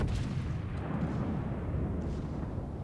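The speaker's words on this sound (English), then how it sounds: "let me turn and use my back gun to finish you off" The rear gun of the battleship Scharnhorst fires in the World of Warships game, making a heavy, deep boom that rolls into a sustained low rumble, loud and filling the whole moment, with no voices.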